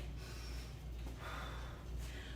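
Heavy, rhythmic breathing after a morning wake-up workout class, steady breaths and gasps in and out close by, with no talking over them.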